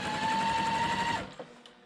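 A sewing machine stitches quilt blocks in a steady, fast whirring run for just over a second, then stops abruptly, leaving a few faint clicks and handling sounds.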